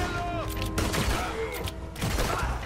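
Gunfire during a ship battle in Red Dead Redemption 2, scattered loud shots and volleys over a busy game mix, with a voice talking intermittently.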